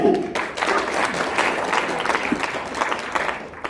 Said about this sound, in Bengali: তালি তালি